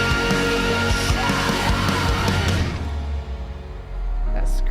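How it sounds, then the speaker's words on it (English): A harsh, sustained vocal scream rises from a loud rock song, straining over heavy instruments before the mix briefly thins and then swells again. "That scream."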